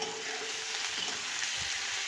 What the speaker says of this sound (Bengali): পেঁয়াজটা হালকা লাল করে ভাজবো।